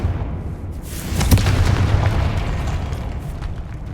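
A Confringo fire spell blasts in Hogwarts Legacy, a loud booming explosion that bursts around the one-second mark and rolls on into a sustained rumbling roar, heard alone without talk.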